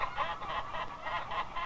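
Chickens on a Georgia chicken farm making repeated, rhythmic honking clucks, fairly close and loud, several calls in quick succession with no talking.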